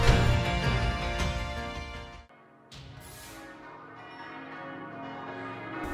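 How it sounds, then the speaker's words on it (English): Chiming bells ring out over the industrial town of Motostoke in the Pokémon Sword video game, a dense sustained peal that cuts off briefly, then resumes more softly. "I can hear the bells of industry ringing in my ear."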